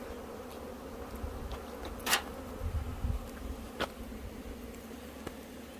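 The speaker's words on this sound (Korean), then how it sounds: "말벌이 좀 들어왔습니다." Hornets buzz around a beehive in a faint, constant hum, with a few louder wingbeat passes darting close by now and then.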